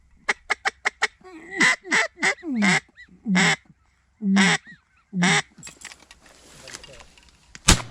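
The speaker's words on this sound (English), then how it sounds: "Lots of widgeon are working us good and close over the kois this morning." A flock of widgeon ducks calls close overhead at dawn over water: a quick series of sharp whistles, then a run of loud, separate calls and a few softer ones. The calls are mixed with low rustling noise and end with a brief thump.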